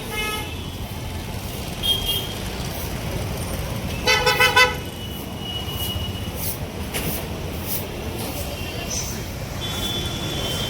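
Dense road traffic at Chakan Chowk, a busy main junction in Pune, with a steady engine roar and a rapid burst of car horn toots near the middle, plus scattered shorter honks throughout.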